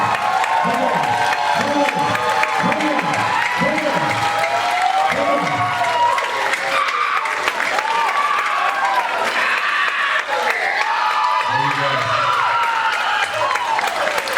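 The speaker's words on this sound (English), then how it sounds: "give these young people a big round of applause" A crowd at a luau applauds steadily and loudly for young performers, with cheers and whoops rising above the clapping while a voice speaks over it.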